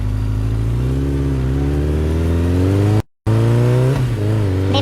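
A car engine revs and pulls away, a steady mid-pitched drone that climbs in pitch as it accelerates, briefly cut out and then resuming loud and close before easing off.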